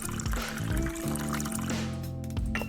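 Water pours into a mug in the cafe game Zipps Cafe, a short liquid fill sound over steady tonal game music, with no talking.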